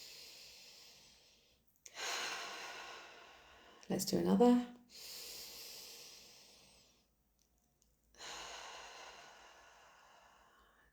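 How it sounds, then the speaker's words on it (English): Deep cleansing breaths come as slow, audible inhales and long, airy exhales close to the listener, three or four in sequence, with a calm voice speaking briefly between them. "I encourage you to do a couple of deep cleansing breaths."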